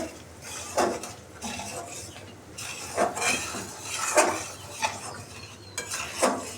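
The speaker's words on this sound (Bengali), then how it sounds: "এবার আমি এটাকে নেড়ে চেড়ে" A spoon stirs and scrapes through tomato sauce in a pan with a sugar addition, giving soft repeated clinks and scrapes at an uneven rhythm over a faint background hiss.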